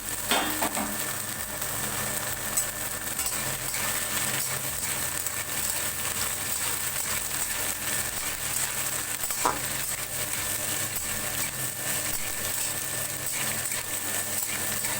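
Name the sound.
chopped carrot, beans and capsicum frying with sabu pulao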